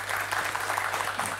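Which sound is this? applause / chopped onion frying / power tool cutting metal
applause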